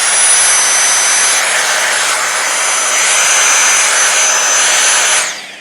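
A Dyson V6 cordless vacuum with a HEPA filter upgrade runs on a DeWalt battery adapter, giving a loud, steady high-pitched whine with rushing airflow for about five seconds before it quickly spins down.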